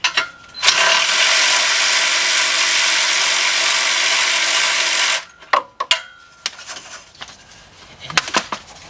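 A ratchet loosens a 16mm nut on an exhaust pipe clamp of a Ford, giving a long steady clicking run for about five seconds, then a few separate sharp clicks and knocks close by.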